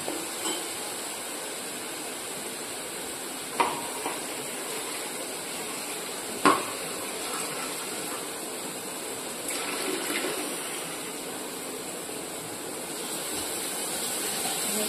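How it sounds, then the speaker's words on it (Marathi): Horse gram dumplings tempering in a small amount of hot oil, giving a steady broadband hiss and sizzle with a couple of sharp pops, close and continuous, no talking. "याला फोडणी देऊन घेते तेल टाकून थोडस."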